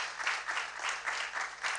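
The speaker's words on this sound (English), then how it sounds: "a round of applause for them" A conference award ceremony audience applauds in a short burst of scattered clapping, rising and falling in a few waves, fairly quiet and with no talk over it.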